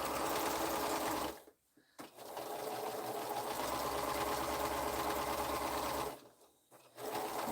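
A sewing machine stitches curved quilt pieces with a loud, steady whirring hum, pausing twice briefly before resuming its even running drone.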